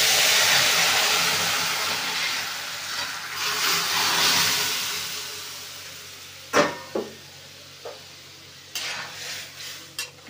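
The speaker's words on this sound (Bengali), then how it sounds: "এই যে ডালটাকে ঢেলে দিলাম।" Boiled matar dal poured into a hot tempering, a loud hissing sizzle at first that gradually fades, followed by a few sharp clinks of a spoon against the pot.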